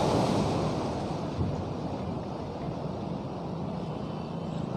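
Floodwater surges along Saloda road past a palace and into roadside shops, a steady loud broadband rush of churning water with a constant roar throughout and no talking.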